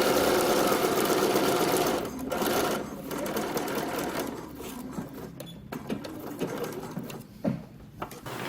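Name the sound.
sewing machine stitching a dart in fabric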